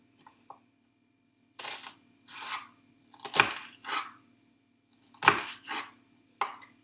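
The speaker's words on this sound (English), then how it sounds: "So chop one way, turn it round, chop the other way, and it dices the onion for you." A knife chops an onion on a board in separate quiet bursts, a few strokes at a time with pauses between them. The sound is close and dry, with no talk over it.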